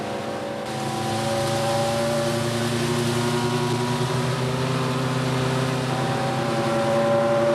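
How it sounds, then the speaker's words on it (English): Classic emergency truck with a 6.5 litre Rolls-Royce engine roaring steadily as it accelerates along a straight road toward 60 mph, a sustained loud drone with gradually rising pitch. "You can hear that engine roaring away."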